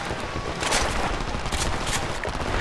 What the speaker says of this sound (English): More gunfire. I hear it.